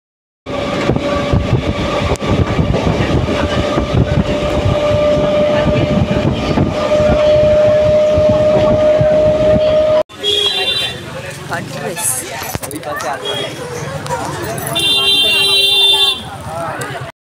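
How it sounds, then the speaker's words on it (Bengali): A passenger train is heard from on board, with a loud continuous rumble and a steady tonal whine for about ten seconds. Then a busier stretch of clatter and bright electronic or horn-like tones follows before the sound cuts off. "তো এই দেখো ট্রেনে উঠে পড়েছি আমরা।"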